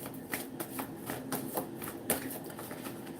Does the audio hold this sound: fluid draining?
no